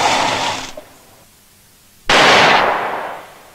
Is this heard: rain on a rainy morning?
no